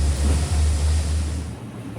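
The Kapotaksha Express, hauled by a locomotive with an engine fire, rolls along the rails with a loud, steady low rumble that eases slightly toward the end.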